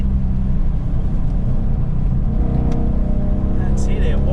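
Ford Mustang GT on a track called The Farm, engine rumbling steadily as it drives through a corner, loud and continuous with a rising note toward the exit, with a voice talking over it.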